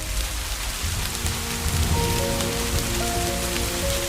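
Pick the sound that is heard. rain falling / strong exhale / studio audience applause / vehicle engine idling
rain falling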